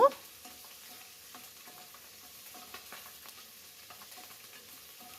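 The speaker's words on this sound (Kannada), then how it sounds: "ಚೆನ್ನಾಗಿ ಫ್ರೈ ಆಗಬೇಕದು" Green chillies and curry leaves fry in a pan with a faint, steady sizzle and occasional soft stirring scrapes, quiet and close, with no talking.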